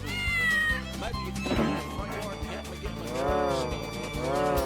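A cartoon cat meows repeatedly in The Incredible Machine 2 on MS-DOS, several drawn-out, rising-and-falling yowls over a looping game tune, loud and close.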